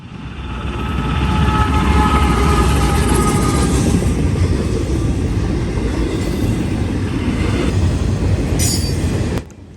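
Northbound freight train 277, Norfolk, Virginia to Chicago, Illinois, rolls past in central Ohio behind a single lead locomotive, a loud, steady rumble of railcars with squealing wheels that drops off abruptly near the end.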